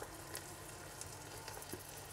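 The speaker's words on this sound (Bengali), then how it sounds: "এখন আমি পেঁয়াজটা হালকা ভেজে নিব" Onions lightly frying in oil with whole garam masala for bhuna khichuri: a quiet, continuous sizzling hiss with small crackles, heard alone.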